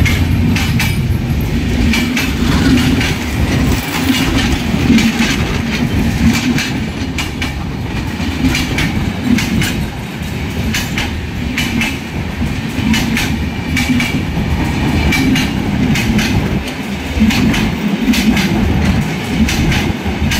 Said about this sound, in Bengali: এই যে দেখুন আমাদের একবারে পাশ দিয়ে যাবে ট্রেনটা, একেবারে পাশ দিয়ে ট্রেনটা যাবে